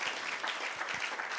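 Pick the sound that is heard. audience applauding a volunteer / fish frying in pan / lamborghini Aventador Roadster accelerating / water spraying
audience applauding a volunteer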